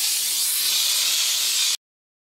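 A Domena CS5 steam cleaner sprays a steady, loud hiss of steam onto fireplace insert glass, continuous up close and then cut off abruptly.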